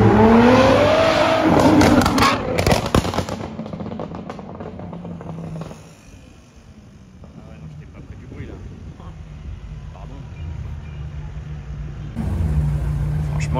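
Two purple Ferrari 488 Pista supercars pass on a Paris street, with loud revving engines and a roar that fades as they go by. Someone talks over the sound, and the engines swell again at the end.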